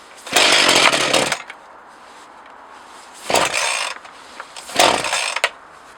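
A Partner 20 chainsaw engine runs in three loud bursts, first a long rev then two shorter ones, with quiet gaps between as it struggles at a low idle.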